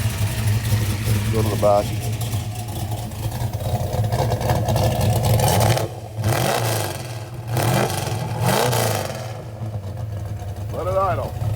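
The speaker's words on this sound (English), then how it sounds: "Motor runs absolutely new. Sounds incredible." A 1969 Ford Mustang Mach 1 V8 with low mileage idles with a deep steady rumble and is revved several times in surges, while people talk nearby.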